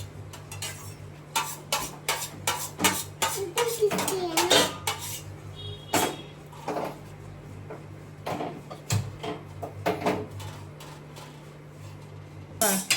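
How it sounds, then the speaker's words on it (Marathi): A metal kadhai is set down on a gas stove for pumpkin kheer, with a series of sharp clanks and clatters of cookware against the burner over a low steady hum. "आता मी गॅसवर कढई ठेवते."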